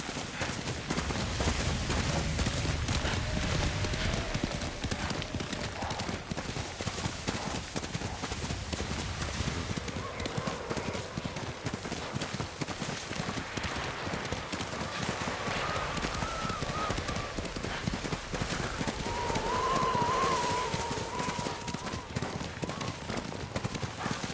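Steady clip-clop of horse hooves throughout, with a faint neigh and soft rustling in the background.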